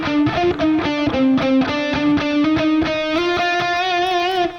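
Distorted electric guitar plays a fast lick from a guitar solo, with rapid picked notes followed by a sustained, bending high note, loud and alone.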